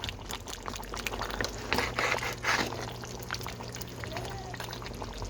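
Jamaican-style curry goat being stirred in a pot, giving a thick wet sloshing and gurgling of liquid with a low steady hum underneath and a few louder splashes.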